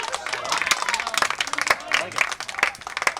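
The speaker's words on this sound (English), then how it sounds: "Good ovation from the home crowd" A home crowd at a boys high school soccer match between Milford and Attleboro claps and cheers in a sustained ovation, with scattered sharp claps and a commentator talking over it.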